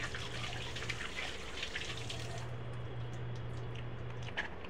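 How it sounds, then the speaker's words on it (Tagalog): Water runs steadily from a faucet in a continuous splashing stream, close and even, with a low hum beneath it. No one speaks. "Hugas mo lang doon sa gripo."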